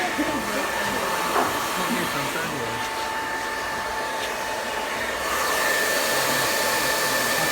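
A hair dryer blows steadily and loudly at close range while hair is dried downwards during a barbershop skin fade, its continuous whooshing airflow unbroken throughout.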